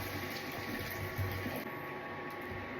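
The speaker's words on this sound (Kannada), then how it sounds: "ಉಪ್ಮಾಗೆ ಎಷ್ಟು ಬೇಕೋ ಅಷ್ಟು ನೀರನ್ನ ಹಾಕೋತೀನಿ" Water poured into a pan of roasted rava for upma, a continuous close rushing splash that runs steadily throughout.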